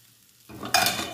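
Potatoes coated in a herby chermoula with thyme start frying in a pan after a near-silent moment, then a loud, close sizzle bursts up and keeps going.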